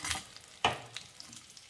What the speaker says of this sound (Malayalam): പച്ചമുളകും കറിവേപ്പിലയൊക്കെ മൂത്തിട്ടുണ്ട്